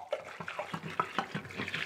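Water sloshing and splashing in the tub of a Rovin Ecospin off-grid washing machine as clothes begin to float, with soft irregular gurgles and drips close by.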